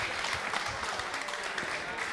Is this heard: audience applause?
yes